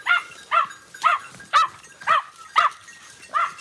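Hunting dogs barking on a wild boar hunt, seven regular barks a half-second apart, close and fairly loud with no talk.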